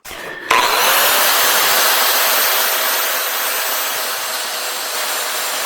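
A power sander with a 40 grit pad grinds 304 stainless steel, starting abruptly after a brief quiet moment and running as a loud, steady rasping whir that eases slightly toward the end.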